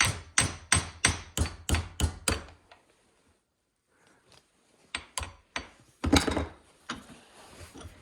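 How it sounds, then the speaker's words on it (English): Rapid series of sharp hammer blows, about eight in quick rhythm, then a pause followed by a few lighter taps and louder knocks, close by. "I think it works better when you hammer it like this."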